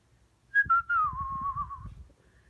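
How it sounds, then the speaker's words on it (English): A person whistles a short melodic phrase, a clear rising then gently wavering tone lasting about a second and a half, close and alone over faint background noise. "And then I'll do the whistling."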